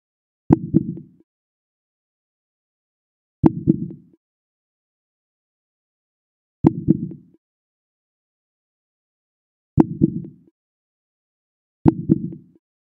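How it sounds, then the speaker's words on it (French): A blue whale's heartbeat booms five times at slow, even intervals about three seconds apart, each beat a deep, muffled double thump alone in silence. "Maintenant, vous entendrez le battement de cœur de la baleine bleue."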